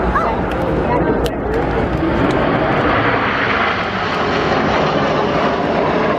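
Red Arrows jets fly in formation at the MCAS Miramar air show in 2019, a loud, dense engine roar filling the air as they pass, with a commentator speaking over the noise.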